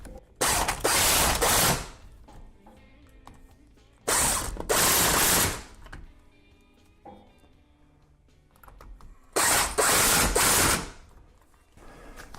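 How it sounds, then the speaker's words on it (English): An impact wrench drives in the sprocket bolts on a Honda RC51 motorcycle in three loud, rattling bursts of about one to two seconds each, with quiet gaps between them. "Now I'm going to tighten them down with the impact wrench"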